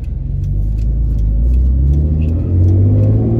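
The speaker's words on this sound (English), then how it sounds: "Give it a little gas." Manual 2010 Hyundai Genesis engine held at a steady low rumble with a slight rise in revs, loud and close, with no talking.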